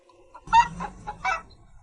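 A rooster clucks several times up close in short, separate bursts, with quiet gaps between them and no one talking.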